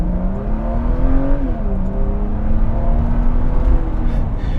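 A Mercedes C36 AMG engine pulls hard under acceleration, its loud, close drone rising in pitch with a brief dip as the automatic transmission shifts quickly before climbing again.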